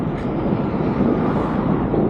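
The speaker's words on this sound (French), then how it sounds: "Il y a pas mal de vent là" Strong outdoor wind buffets the microphone as a steady, dense rumbling roar that lasts the whole moment, with no voices over it.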